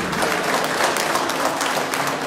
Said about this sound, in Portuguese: uma grande salva de palmas para ela